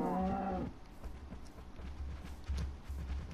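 Cows mooing in the Minecraft video game on PlayStation 4, a loud low moo up close at the start followed by softer, repeated lowing and a few dull thumps.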